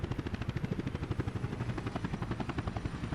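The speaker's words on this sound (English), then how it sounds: "This is why we have fire helicopters." A fire helicopter carrying a big bucket flies in Workers and Resources, its rotor beating in a fast, steady chop at moderate loudness, alone and continuous.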